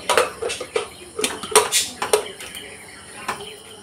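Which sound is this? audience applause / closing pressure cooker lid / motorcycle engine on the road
closing pressure cooker lid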